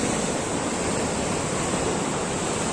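Sea waves washing onto a beach, a steady, loud, broadband roar of surf heard up close with no talking over it.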